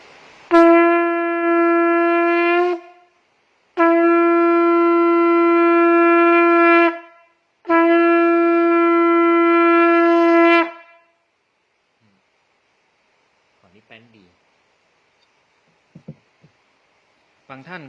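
A conch shell horn blown in three long, steady, bright blasts separated by short breaths, followed by a few faint handling noises.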